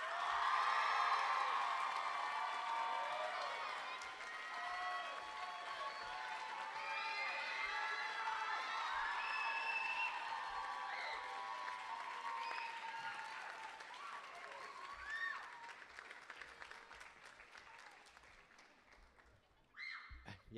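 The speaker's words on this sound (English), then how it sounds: "How about a round of applause for our faithful accompanist" A high school choir pops concert audience claps and cheers for the accompanist, sustained applause with whoops and shouting that gradually tapers off over about twenty seconds.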